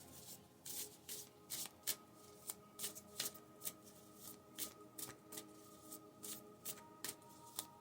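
Tarot cards are shuffled by hand in quick repeated riffles, each a short crisp burst of papery flutter at a fairly regular pace, close and quiet with no talk.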